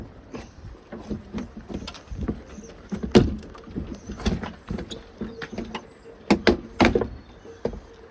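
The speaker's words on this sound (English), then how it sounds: "There we go, door card is off." Repeated plastic clicks and sharp pops as clips snap loose from a Land Rover Defender door card, with scraping and rustling of the panel being worked free, close up.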